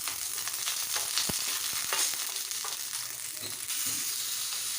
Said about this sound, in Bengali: পটলটাকে প্রথমে ভেজে নিলাম।